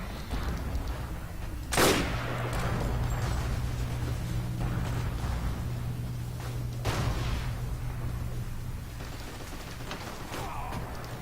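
Gunfire in the World War II shooter Forgotten Hope 2 at Pointe du Hoc, a few loud isolated shots cracking over a constant rumbling battlefield ambience.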